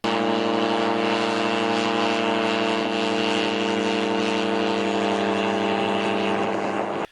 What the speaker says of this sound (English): we're working with the homemade airboat